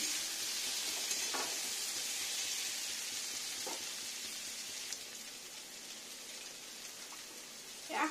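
Taro frying in a pan, with a steady close sizzle and crackle throughout and a few faint scrapes of stirring, ending on a brief louder clatter.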